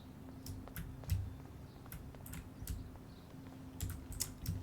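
Quiet, irregular keyboard typing from the video game Life is Strange: light tapping clicks come in small clusters throughout, faint and close.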